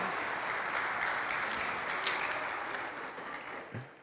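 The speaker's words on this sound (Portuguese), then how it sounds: "Vamos aplaudir o Senhor pela vida desse casal maravilhoso" Steady applause from a church congregation during a sermon, sustained and even, fading slightly toward the end.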